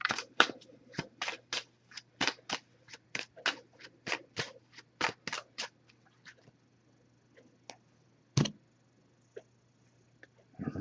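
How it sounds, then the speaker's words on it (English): A deck of oracle cards being shuffled by hand in a quiet room, a rapid run of crisp papery riffles and slaps that slows into a few scattered flicks, close and fairly soft; no talking. "I'm just going to give this a few shuffles."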